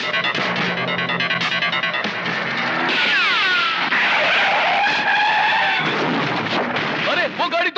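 Tyres on a car in a film scene screech loudly and continuously as it skids and overturns, with sweeping squeals rising and falling for several seconds.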